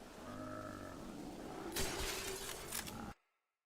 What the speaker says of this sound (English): I shot his arm, and it made a glass breaking sound effect.